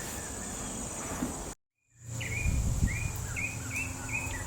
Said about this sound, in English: I think it's like a mockingbird or something. It goes off all the time.